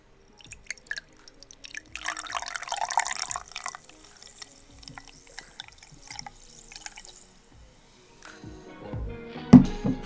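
Freshly poured blueberry hard cider fizzes up close, with a dense crackle of bursting bubbles that swells and then thins into scattered pops and drips, ending in a louder knock.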